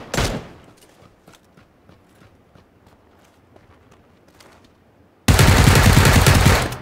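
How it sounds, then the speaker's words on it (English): Gunfire in PUBG on the Miramar map: a sharp close shot at the start, scattered footsteps and faint distant pops, then a loud sustained burst of rapid automatic fire that runs to the end. "You're shooting me."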